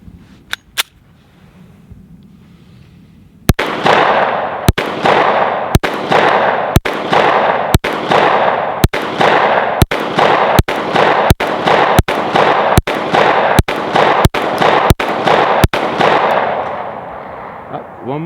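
Kimber KDS9C 9mm compact pistol fired at a target 10 yards away, a steady series of about fifteen sharp, loud gunshots in even rhythm, each ringing briefly, after a couple of faint clicks and a quiet pause.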